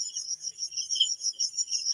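Crickets chirp in a steady, pulsing trill, several shrill bursts per second repeating evenly, close and fairly loud with no other sound.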